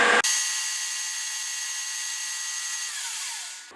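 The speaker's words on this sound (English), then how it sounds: "using that method of machining like a CNC lathe, the part is machined" Lathe machining a metal part: a sudden onset of a high, steady whining cut that holds evenly for over three seconds, then tapers off and stops, loud and close with no talking.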